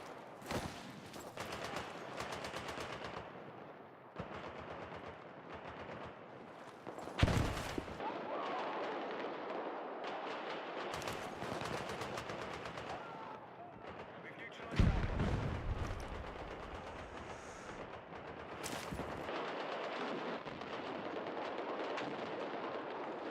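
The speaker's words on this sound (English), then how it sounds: "Machine gun!" Machine gun fire crackles through a first-person shooter match in rapid bursts, with several heavier booming shots standing out and a player talking over the fighting.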